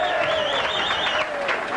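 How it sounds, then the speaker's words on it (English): Rochdale Hornets spectators cheering and applauding at a 1991 rugby league match against Wigan, a steady dense crowd roar with clapping throughout. "The Hornets spectators cheering every tattle, all fired up for this game"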